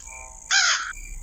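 A single crow caw rings out in the Granny 3 horror game, one harsh, loud call lasting under half a second over a quiet background tone.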